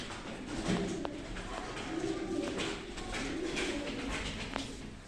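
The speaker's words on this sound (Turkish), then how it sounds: "1980'den beri beslenen kuşlar" Pigeons coo in soft, low repeated calls, several birds close together, with rustling and faint chirps over a steady background.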